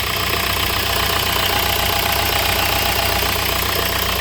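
A cold Nissan car engine idles steadily at close range with a slight rattle, giving a loud, continuous rumble with no talking.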